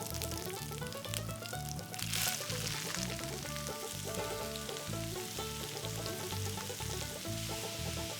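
Brown mustard seeds crackling and popping in hot oil with green chili and ginger paste frying, a steady dense sizzle and spatter close up with no talk, while background music plays throughout.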